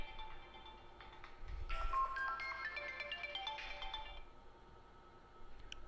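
A phone ringtone plays during a classroom-style lesson, a melodic electronic tune of stepped tones lasting a few seconds, fairly faint over a low background hum, without talking.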